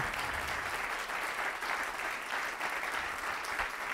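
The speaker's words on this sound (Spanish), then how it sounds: "Denle un aplauso al Señor." A church congregation applauds during a sermon, a continuous, even wash of many hands clapping, moderately quiet and somewhat distant, with no speech over it.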